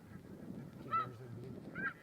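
Blue-phase snow geese call in a hunting field, two distinct honking bursts rising over a steady low rumble of wind and background noise, moderately close.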